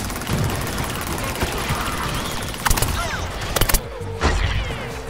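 Bombs burst in Plants vs. Zombies: Garden Warfare amid dense, continuous battle noise, with a few sharp loud blasts clustered in the latter half and a final thump near the end.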